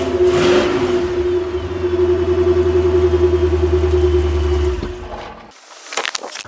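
A 3.9 litre Rover V8 in an MG RV8 sports car runs with a steady, loud mid-pitched engine note, then cuts off abruptly near the end, leaving brief quieter sounds.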